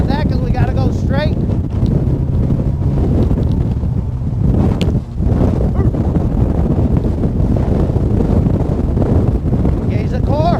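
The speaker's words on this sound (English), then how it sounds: "We are now getting a crosswind." Crosswind buffeting a microphone outdoors, a continuous loud rumbling roar with gusts that briefly dip mid-way before building again, no speech over it.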